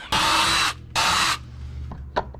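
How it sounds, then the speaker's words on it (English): A drill with a bigger bit bores through metal on a Mustang during a Roush foil kit install, two loud close bursts of under a second each, followed by faint clicks. "Let's get our bigger drill bit."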